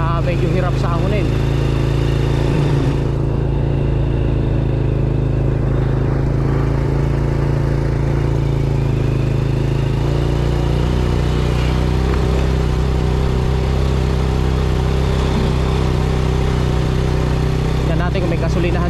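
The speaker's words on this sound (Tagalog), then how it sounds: "Ang ating motor 100 lang, kaya medyo hirap sa ahunin." A 100cc motorcycle engine labors steadily up a steep mountain road near Angat Dam in Bulacan, a constant loud droning hum with rattling clatter, while someone talks over it throughout.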